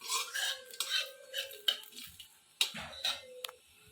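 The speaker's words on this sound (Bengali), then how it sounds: "দেখুন কালো জিরেটা আমার একটু ভেজে নেবো যাতে সেন্টটা একটু ছাড়ে।" Nigella seeds fry in mustard oil as a spatula scrapes and clinks against the pan in irregular strokes, with a soft sizzle underneath.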